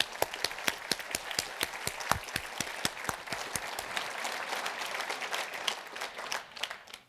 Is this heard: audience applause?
yes